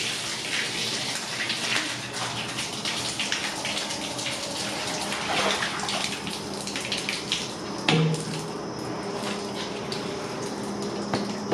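A filter is rinsed under a forceful stream from a tap, a steady gushing splash of running water that continues throughout with small shifts as the filter moves in the flow, with no voices.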